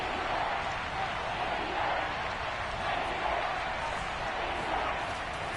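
Steady stadium crowd roar from a Madden 22 football video game, a dense continuous wash of noise with a home Seahawks crowd during a red zone third down, constant and even throughout.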